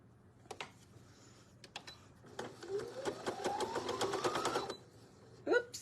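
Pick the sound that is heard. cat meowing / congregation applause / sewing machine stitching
sewing machine stitching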